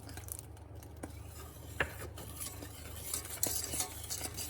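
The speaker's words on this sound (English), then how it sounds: "slowly stir this to combine" Milk being stirred into a chocolate mixture in a pot on a stove, a utensil scraping and clinking against the pot over a low steady hum, close and fairly quiet.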